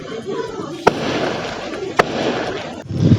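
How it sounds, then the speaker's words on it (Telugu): Fireworks burst in the sky during a celebration for the Ayodhya Ram temple idol consecration, with two sharp loud bangs over a constant crackling rumble and voices murmuring in the background. "బాంబులు అక్కడ కలుస్తున్నారు చూడండి ఆకాశంలో"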